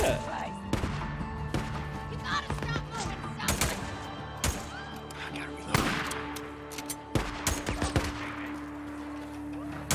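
Gunfire in the video game Days Gone: repeated sharp shots in irregular bursts over about ten seconds, some close together and some spaced apart, mixed with a voice talking.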